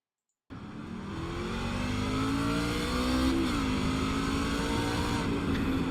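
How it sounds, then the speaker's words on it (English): A race truck engine in the iRacing sim at Martinsville Speedway drones steadily after a short silent start, its pitch climbing and swelling louder as it revs before a restart, with no talk over it. "if you listen here, you hear his engine just get a little loud beforehand"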